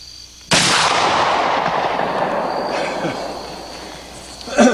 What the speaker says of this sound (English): Let's shoot our other target. Run a quick 3-shot group.